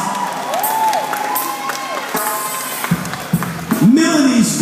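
A talent show audience applauds and cheers for a singer, with loud crowd clapping, whoops and shouts, and a voice rising over the noise as the cheering swells toward the end.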